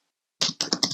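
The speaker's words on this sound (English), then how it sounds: "forgive my poor typing" Typing on a computer keyboard, a few quick bursts of clustered key clicks close up, with no voices.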